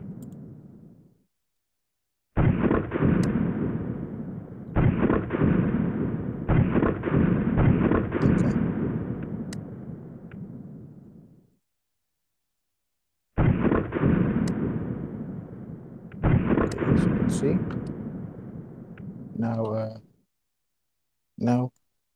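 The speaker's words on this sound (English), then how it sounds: "Okay, so I'm firing like that." An Astra Model 400 WOG gun replica fires a series of sharp, loud cracks in two bursts separated by a pause, each shot ringing briefly. A few soft metallic clicks follow, with no talk over them.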